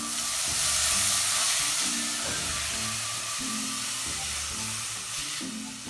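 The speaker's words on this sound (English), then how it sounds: "Saute for 3 to 4 minutes and then add the carrot and capsicum." Garlic, green chilies, carrot and capsicum sauté in a hot pan, giving a steady, close sizzle that runs unbroken from start to finish over a soft tonal backing.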